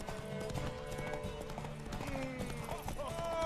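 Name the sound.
horse galloping in video game The Witcher 3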